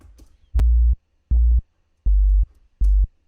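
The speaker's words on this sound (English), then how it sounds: "bounced out just the sub with absolutely no effects on it, just clean sine waves" Four sustained pure sub-bass tones pulse in a steady rhythm, each lasting under half a second, deep and clean with nothing else around them.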